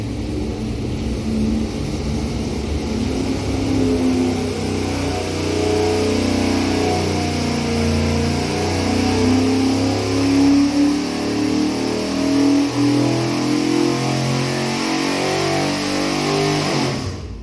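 A 1970 Mopar 440 big block, built in 1988 and timing advanced to 37 degrees, roars steadily on an engine dyno, holding a loud sustained high-rpm pull near 6,000 RPM before dropping off at the end.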